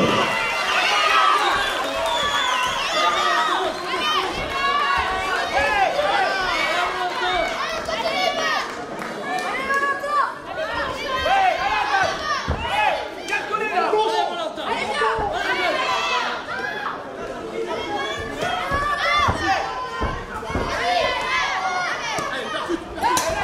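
Dense, continuous crowd noise from spectators at a savate kickboxing bout, with layered shouting and chatter that stay loud and steady throughout and never fall quiet.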